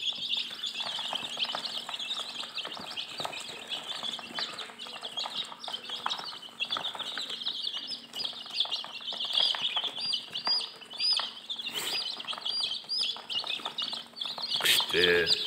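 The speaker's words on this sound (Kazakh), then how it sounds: "Өз тауықтарынан шыққан балапандар осы." Four-day-old chicken chicks hatched from home hens, peeping continuously in a busy high chorus with steady background hum, while a person talks over them.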